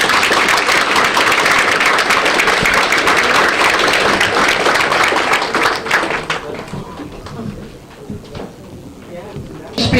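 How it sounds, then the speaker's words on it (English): A dinner audience at a Saranac Freedom Club event claps together in a loud, dense burst of applause for about six seconds, then it thins to scattered claps and murmuring voices. "I'd like a round of applause because you made our lives that much richer for coming home."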